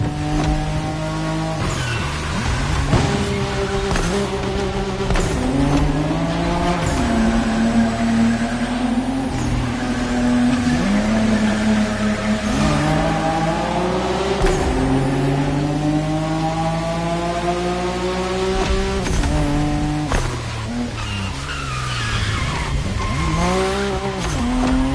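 Drifting car in The Crew Motorfest racing game, sustained loud engine roar with rising and falling revs and continuous tire squeal through long slides, steady and close with no voices.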